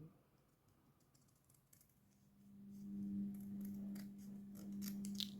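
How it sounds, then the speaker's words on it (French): Scissors cut through two stacked sheets of thin paper at once for a folded paper fan, giving a short series of crisp snips over a soft hum, close and quiet. "je vais les couper tous les deux en même temps"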